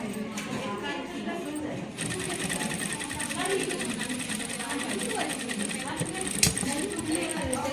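A sewing machine stitches a child's night suit, its needle running in a fast steady rattle that pauses briefly and picks up again, with someone talking nearby over the mechanical chatter.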